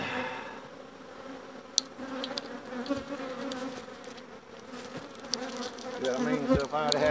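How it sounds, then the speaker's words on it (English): Honey bees drone at a hive during a split in a steady, moderately faint buzz, broken by a few sharp clicks and knocks. "you would add all them bees on another hive lid"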